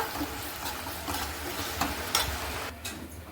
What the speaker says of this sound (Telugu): ఇప్పుడైతే అల్లం వెల్లిపాయ పేస్ట్ అయితే వేసుకోవాలి ఫ్రెండ్స్ ఇది కొంచెం మంచిగా ఫ్రై అయినాక